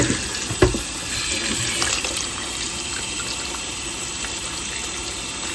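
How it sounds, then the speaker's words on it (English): Cold water runs steadily from a tap into a sink, set to soak an antique china head doll's stained dress, a loud, even rushing stream close by with a faint knock near the start and no speech. "I'm gonna soak it for a while and see if I can get some of that brown stains out. It's just cold water."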